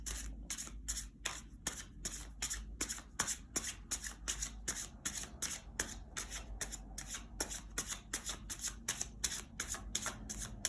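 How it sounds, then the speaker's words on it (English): Tarot cards being shuffled over and over in a steady riffling rhythm, close and crisp, with soft flutters and taps between bursts and no talking. "as I shuffle these cards with the collective in mind"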